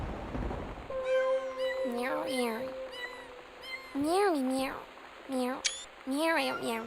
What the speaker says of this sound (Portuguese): a televisão vai ligar, vai passar um monte de foto de gata, vai ter miado até umas horas